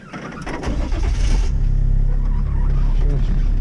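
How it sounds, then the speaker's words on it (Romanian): A car engine cranks and starts up, settling into a steady low idle rumble that stays loud and close throughout. "Pornește mașina."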